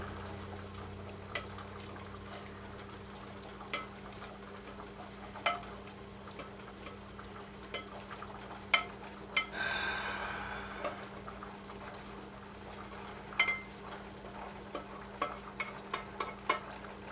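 Spaghetti sauce quietly simmering and sizzling in a pan while grease drains, a soft steady bubbling bed punctuated by scattered ticks and clinks, with a brief louder stirring scrape midway.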